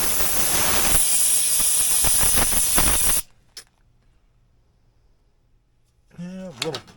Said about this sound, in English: So, a little brake cleaner.